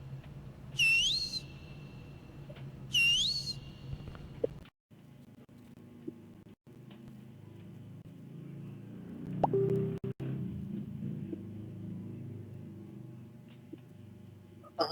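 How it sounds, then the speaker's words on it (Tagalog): Whistle blown in the Backrooms video game, two short rising shrill blasts early on, followed by quieter game ambience, clicks and a faint tone. "Ay, narinig ko pito nyo."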